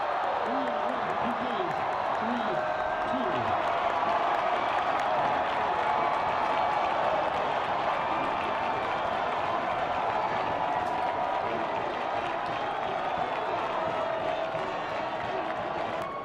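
A college soccer crowd cheers and claps as fans rush the field after a decisive save, a dense, steady roar of voices and applause with commentary talking over it.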